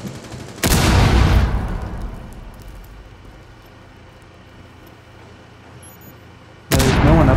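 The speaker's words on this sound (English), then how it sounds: "But there are explosions above us." Two loud, booming blasts in the video game Rainbow Six Siege, one near the start and one at the end, with a rumbling decay between them.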